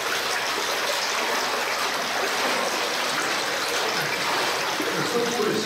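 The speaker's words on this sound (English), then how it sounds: "There's so much water streaming down this ore pass now that it's taking a lot of mud with it" Water pours steadily down a mine ore pass in Anyox, carrying mud, a dense continuous rushing hiss that stays loud and unbroken for the whole stretch.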